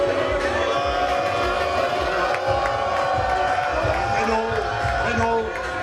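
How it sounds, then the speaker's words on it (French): A crowd at a championship-belt wrestling match roars and cheers for a Congolese wrestler, a dense, sustained wash of noise with an announcer talking over it. "Vous pouvez l'applaudir, c'est un grand catcheur congolais."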